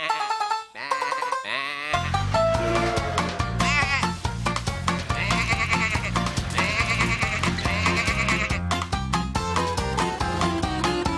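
Cartoon sheep in a Tractor Tom episode bleat over busy, loud background music, with the calls woven among bright melodic notes across the whole stretch.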